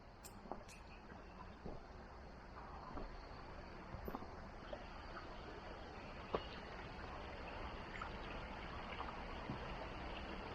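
Steady broadband rush of flowing water, like a creek nearby, with faint wind noise and a few small knocks.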